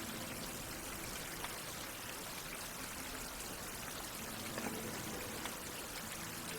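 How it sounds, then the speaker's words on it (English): Water filling flasks in the survival game Survival: Fountain of Youth, a faint, steady pouring and trickling stream that runs continuously, with a brief spoken word. "I also need to fill up the flasks again"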